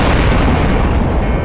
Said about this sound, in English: larger explosion rocks the ship.